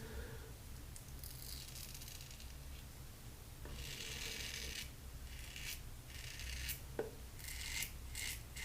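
A Los Angeles Shaving Soap Company BBS-1 razor scrapes against the grain through a soap lather, producing soft, close rasping strokes in short, uneven bursts with no speech.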